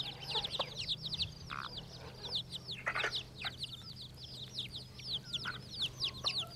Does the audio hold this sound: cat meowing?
no